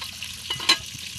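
A soft, brief sizzle of fish frying in a pan, with a small crackle and a light scraping stir, close and fairly quiet.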